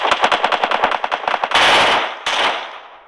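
Automatic gunfire from the Free Fire mobile battle game: a loud rapid burst of closely spaced shots for about a second and a half, then two sustained blasts of noisy firing, with no talking.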